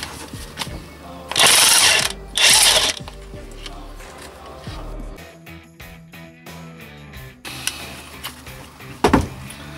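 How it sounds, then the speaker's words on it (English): A rattle gun fitted with an Allen bit hammers at a bolt on a Suzuki RF900 motorcycle engine during a rebuild, two short loud rattling bursts followed by quieter clinks and a brief final burst. "Just use the rattle gun."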